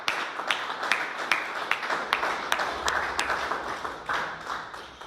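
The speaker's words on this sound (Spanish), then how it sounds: "Démosle un fuerte aplauso a nuestro buen maestro." A church congregation applauds its teacher with strong clapping, sharp individual claps standing out over a continuous patter of many hands, steady for about five seconds.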